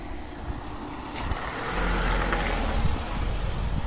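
A truck rumbles past on a road, a broadband roar that builds and stays loud through the second half, with a faint brake-like hiss mixed in.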